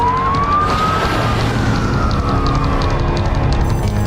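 An airport alert siren wails steadily and loudly with a rising and falling tone, alone over a constant roar of background noise.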